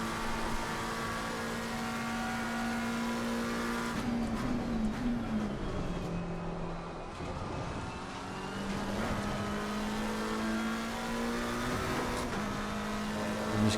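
Race cars lapping Imola in the racing game Assetto Corsa Competizione, steady loud engine drone with gear shifts and revs rising and falling, a car passing midway, continuous throughout with no talk.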